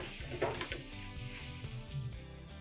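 Lapchong sausage sizzles in a hot pan alongside a soft steady frying hiss, while a few pan clatters and stirring knocks sound quietly beneath background music.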